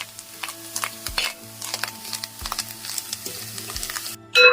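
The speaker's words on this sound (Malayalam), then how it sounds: "നമ്മുടെ തേങ്ങ അങ്ങനെ വറുത്തോണ്ടിരിക്കണല്ലോ, നന്നായിട്ട് വറക്കണം അല്ലേ." Grated coconut is stirred and roasted in a pan for a jackfruit-skin curry. Repeated close scraping strokes of a spoon against the pan ride over a soft sizzle, and a brief louder clatter comes at the end.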